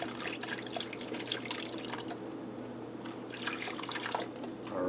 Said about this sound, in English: Now I have some beef broth. I'm going to add some in.